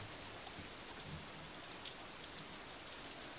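Rain falls in the visual novel game Katawa Shoujo, a soft, even patter of drops on surfaces with no talking, faint and continuous throughout.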